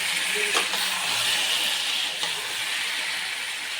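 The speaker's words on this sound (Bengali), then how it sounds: "তো আমি এখন মাংসটা কষাচ্ছি" Chicken meat and skin fry in a pan, giving a steady, close sizzle with occasional soft stirring clicks and no talking.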